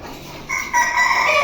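Caged chickens on a covered rooftop veranda, a hen clucking and a rooster crowing loudly and close, alone with no talk.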